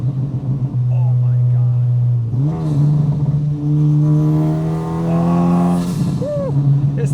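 A 600 hp Honda Civic Type R engine revs hard up close, its loud pitch climbing, dipping and surging again in long pulls, while a voice briefly exclaims over it.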